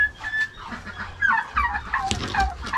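Crossbreed hens and chicks in a nest, close clucking and soft chirping calls from several birds in irregular bursts, with no talk.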